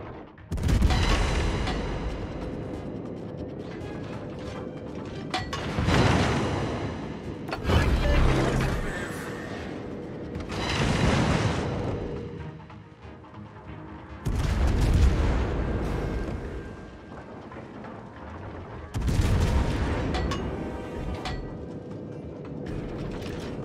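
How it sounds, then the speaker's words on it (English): Heavy naval guns of a Tier 10 cruiser, USS Salem, firing in a naval battle game: repeated deep booming salvos every few seconds, loud and near, with rumbling mechanical background between shots. "Concentrate fire on the enemy warship."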